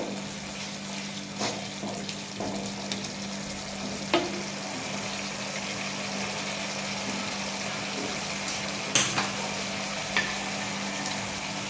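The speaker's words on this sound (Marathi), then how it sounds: "आपण याच्यात आता पनीर टाकून घेऊ।" Paneer simmers in a bubbling buttery gravy, giving a steady low sizzle and frying crackle with a few sharp spoon taps and stirring scrapes scattered through.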